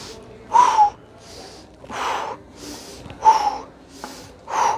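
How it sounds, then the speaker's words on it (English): Rhythmic breathing during a Russian twist exercise with feet in the air and legs straight: repeated sharp, close breaths in and out, about six in a steady rhythm, with no talk. "We're going to breathe in one direction."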